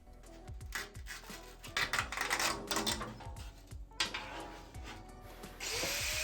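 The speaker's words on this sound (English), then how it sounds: "Yes, I'm using a grinder on plastic. It's not proper, but it works." An angle grinder cuts into a plastic Bluetooth speaker housing, harsh rasping bursts that rise and fall in short passes, close and loud, ending in a steady whine.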